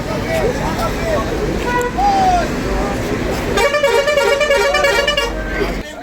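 Busy roadside crowd at the Digha seaside resort, with bus horns honking amid steady traffic rumble and crowd chatter, a sustained multi-tone horn blaring loudly near the end while voices continue underneath.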